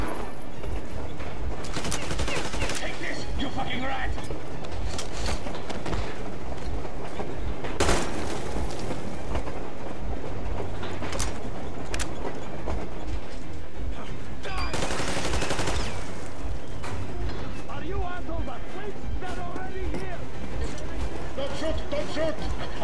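Gunfire in the shooter game Metro Exodus, bursts of rapid shots and scattered single cracks over about twenty seconds, mixed with game noise and someone talking over it.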